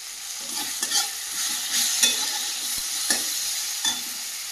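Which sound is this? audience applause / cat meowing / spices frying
spices frying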